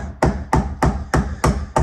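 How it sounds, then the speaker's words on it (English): A hammer taps a wooden golf tee into a stripped screw hole in wood, six sharp evenly spaced strikes close up, with no talking. "So then grab your hammer and just go ahead and start tapping it in."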